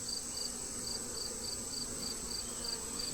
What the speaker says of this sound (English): There's quite a lot of bees inside the box.